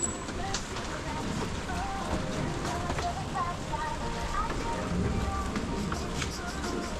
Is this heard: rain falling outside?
yes